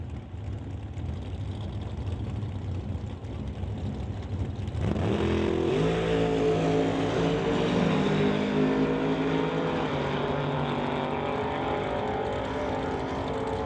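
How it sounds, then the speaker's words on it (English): Door slammer drag race cars roar in quarter-mile racing at a Canada West Door Slammers qualifying event, a loud engine drone that surges sharply as a car launches and screams away under hard acceleration. "Quarter mile racing here, the Canada West Door Slammers."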